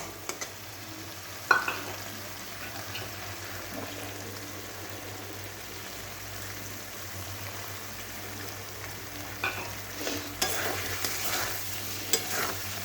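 Egg curry masala, fried tomato and fried whole spices are stirred and sautéed in a pan as egg kosha, giving a steady, soft sizzle with occasional scrapes and a louder scrape near the end.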